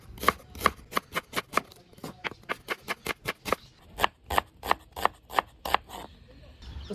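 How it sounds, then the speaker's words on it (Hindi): Knife roughly chopping peeled onions on a board for paneer butter masala, about twenty sharp, evenly spaced cuts in a steady rhythm, close and clear, with faint kitchen background. "रफली काट लेते हैं।"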